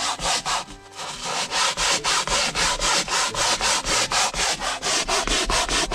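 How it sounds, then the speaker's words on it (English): A brush scrubs foam cleaner into a car seat with quick rhythmic strokes, each rasping back-and-forth rub loud and close, repeating steadily with no talking. "foam it up, just scrub it into your seat, and you just scrub it in."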